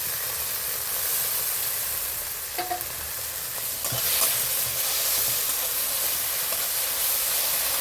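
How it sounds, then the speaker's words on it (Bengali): A ground paste of cumin, coriander and fennel frying in a pan with vigorous stirring: a loud, continuous broadband sizzle and hiss with a couple of brief clinks, no voices. "খুব ভালো করে মশলাটাকে আমি কষে নেব"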